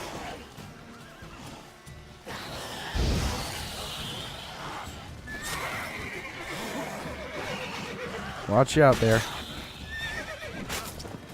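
A horse in the video game The Witcher 3 whinnies loudly near the end amid clip-clopping hooves and scuffling game sounds, with people talking over parts of it.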